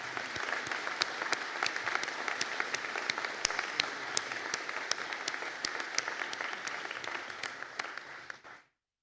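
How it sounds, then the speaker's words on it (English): Graduation ceremony audience applauding Bachelor of Science Honours graduates in Biopharmaceutical Science, a steady wash of many hands clapping at moderate distance for about nine seconds before cutting off abruptly. "for a round of applause."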